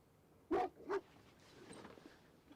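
A pair of sharp dog barks rings out close by at night beside a caravan, then fades into a quiet, low outdoor background.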